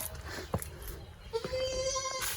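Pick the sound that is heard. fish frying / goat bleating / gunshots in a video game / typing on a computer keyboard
goat bleating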